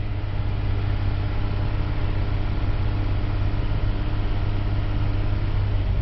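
A car engine held at raised RPM during a battery test, a steady, even drone with a low hum that neither rises nor falls, heard alone with no talking.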